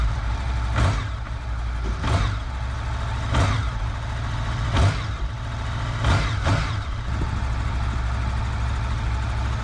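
A Honda VFR800 motorcycle idling steadily with a deep, low rumble, joined by periodic sharp clicks or knocks at a regular interval across the whole stretch.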